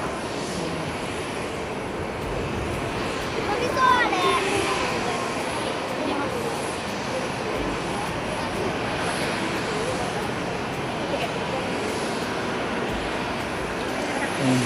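A China Southern airliner rolls out along the runway at Haneda, its engines roaring in a steady broadband wash that holds for the whole stretch, with faint voices of people chatting somewhere in the background.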